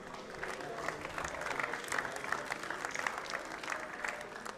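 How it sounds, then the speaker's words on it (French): Steady, dense applause from an audience at the SwissEurobot 2017 robotics competition, honouring two teams. The clapping is sustained and even for the whole stretch, with no break. "je vous propose de redonner des applaudissements à ces deux équipes qui les méritent."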